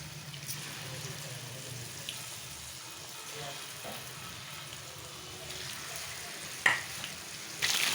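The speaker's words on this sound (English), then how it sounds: "So now that the oil is hot, we'll put in the coated paneer." Coated soya paneer pieces deep fry in hot oil with a steady, fairly faint sizzle that runs through the whole stretch. A few sharp spatters and clatters break in near the end.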